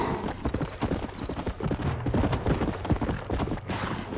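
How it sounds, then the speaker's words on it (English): Hooves pound in a quick, steady gallop as a horse runs up in Red Dead Redemption, loud and close, with the dense clip-clop rhythm filling the whole stretch. "run as far as you can until your horse catches up to you, which here he comes now"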